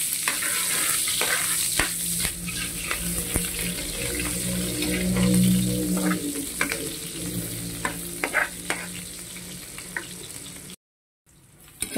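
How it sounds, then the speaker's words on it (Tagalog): Onions dropped into hot cooking oil sizzle and fry in a pan while being stirred, a continuous crackling hiss with scraping stir strokes and some water running, loud and close, without talk, cutting out briefly near the end. "mainit na yung ating cooking oil, kaya lagay na natin ang sibuyas"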